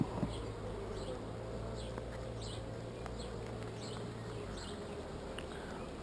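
Honeybees hum as a faint, continuous low drone inside a packed hive box during an artificial swarm, with a few soft clicks and rustles over the steady buzz.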